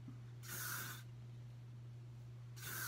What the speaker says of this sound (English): I'll just spray just a little bit and then I spray around my front.